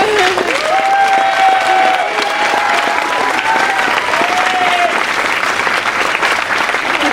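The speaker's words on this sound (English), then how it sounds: "let's please give that another round of applause" Sustained applause from the audience at a Star Wars Rebels series finale Q&A with cast and creator at Walt Disney Studio, loud and steady throughout, with some cheering mixed in and a few tonal voice traces riding over the clapping.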